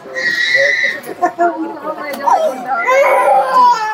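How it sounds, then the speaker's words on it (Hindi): Infants cry at a crowded vaccination camp, several thin wails rising and falling over adult chatter and background voices throughout. "आप किलकारी सुन रहे होंगे, बच्चों की शुरू हो चुकी है"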